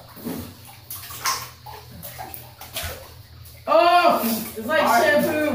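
Thick slime is poured over people in a bath, giving wet sloshing and gloopy splashing, loud and close, with excited voices and laughter over the top and rising near the end.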